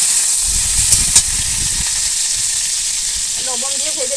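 Vegetables fried with salt beforehand are added to onions frying in a pan, giving a steady close hiss and sizzle with a few sharp crackles near the start.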